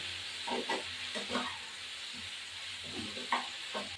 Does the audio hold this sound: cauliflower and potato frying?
yes